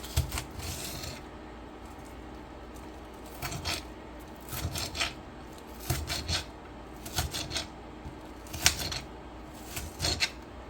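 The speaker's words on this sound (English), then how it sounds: "dice these onions into smaller pieces" A knife dices onions on a cutting board in short bursts of rapid chopping taps, separated by brief pauses, close and moderately loud with no talking.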